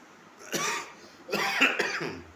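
Two short, harsh coughs from one person, close up, a second apart, the second longer and rougher.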